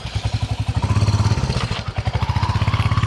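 A Royal Enfield Guerrilla 450 motorcycle engine runs loud and close in a fast, steady thumping pulse that briefly softens midway before picking back up, with no talk.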